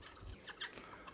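Desi chickens cluck in a farmyard, several short scattered clucks from more than one hen amid a steady background hiss, with no talking.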